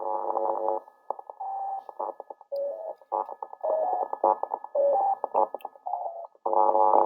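Acoustic tones from a computer running GnuPG RSA decryption, heard as bursts of buzzy, stuttering tones that repeatedly stop and restart, with louder blocks at the start and end.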